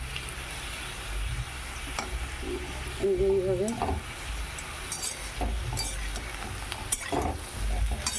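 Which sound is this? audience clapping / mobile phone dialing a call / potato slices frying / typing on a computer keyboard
potato slices frying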